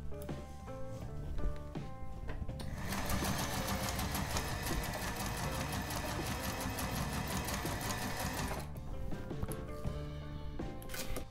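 A sewing machine stitches flipped fabric with the thread tension set near maximum, running steadily and close for about six seconds with a rapid, even rattle. Softer mechanical clicks come before and after the run.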